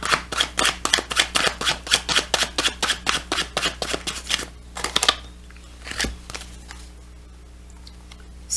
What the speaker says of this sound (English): Pull a couple more cards.